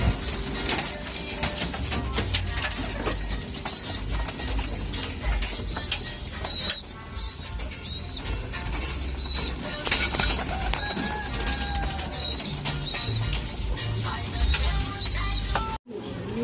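Pigeons suffering from colds and rattling breathing coo and shuffle close by in a loft, with soft bird calls, scattered wing flaps and small clicks repeating irregularly over a faint background.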